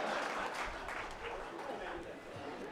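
Audience applause after a retired High Court justice's speech, a steady, fairly quiet wash of clapping with some murmuring mixed in, continuing evenly throughout.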